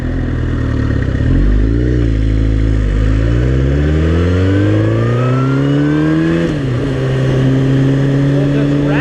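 A motorcycle rides along a road, its engine loud and close, rising steadily in pitch through the gears and then settling into a steady cruise, with a rider's voice talking over it.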